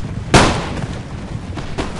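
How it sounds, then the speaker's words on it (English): Guardias de Infanteria platoon firing in Empire: Total War: one sharp, loud musket crack that trails off into a rumble, then a second fainter burst about a second and a half later. "now my Guardias de Infanteria are ready, and they do platoon firing"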